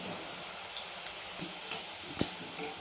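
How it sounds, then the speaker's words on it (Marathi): Fenugreek, spinach and potato pakoras deep-frying in hot oil, a soft continuous bubbling sizzle with occasional sharp pops and ticks, fairly quiet and with no talking. "अशाच पद्धतीनं पूर्ण आता मी पकोडे तळून घेणार आहे"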